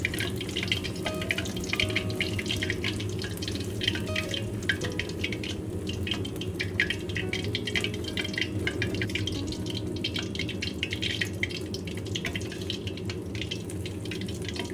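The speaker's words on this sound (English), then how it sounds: "When the surface is slightly golden, drain the oil." Crispy scallion-scented pork bites drain out of hot oil, making a continuous close sizzle and trickle with scattered drips and clinks throughout.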